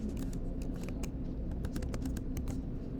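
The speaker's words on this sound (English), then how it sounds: "this is a fun little typing exercise" Rapid, steady keystrokes on a computer keyboard, clattering continuously at close range over a low background hum, with no voices.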